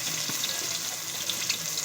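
Potatoes fry in hot oil in a pan for a mustard chicken curry, giving off a steady soft sizzle with faint crackling heard up close.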